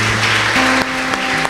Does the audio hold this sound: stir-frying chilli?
no